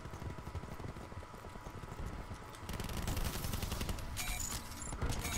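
Rapid automatic gunfire in the Black Ops 4 multiplayer beta, dense bursts rattling continuously and growing louder midway, with sharp overlapping shots close by.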